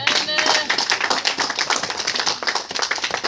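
A church congregation at a sermon claps and applauds steadily for a few seconds, a dense, lively patter of many hands close by, with voices mixed into the clapping.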